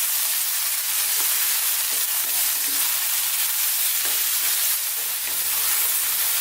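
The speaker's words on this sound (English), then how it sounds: "we're going to give this a little stir" Lamb and potato curry with onions frying in a pan, a continuous loud sizzle broken by a few soft scraping stirs spaced through the clip.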